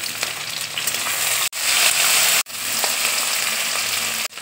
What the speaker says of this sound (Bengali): এবার দেখো টমেটো দিয়ে দিচ্ছি।